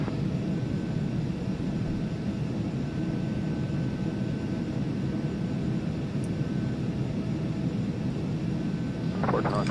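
A Carenado Citation business jet on its takeoff roll in the FSX flight simulator, a loud continuous engine roar and rumble with a faint whine, steady throughout and heard alone.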